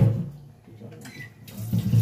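Water poured from a vessel into simmering lentil dal in a home kitchen, a brief splashing pour that comes in two bursts, at the start and again near the end, close to the microphone.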